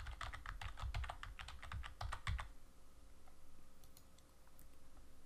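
Someone types an IP address on a computer keyboard, a quick run of close, crisp key clicks lasting about two seconds that gives way to faint room hiss with a few scattered ticks.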